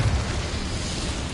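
An Incendio fire spell goes off in a Harry Potter video game inside a goblin mine. It makes one short, loud, roaring whoosh of flame that fills the brief moment.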